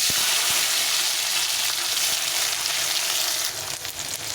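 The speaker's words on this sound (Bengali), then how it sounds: "টমেটোটা ভেজে নেব" Chopped tomato frying in a pan of spiced oil for a cauliflower-and-yam style curry, a steady loud sizzle with a few soft clicks of a spatula, no voices.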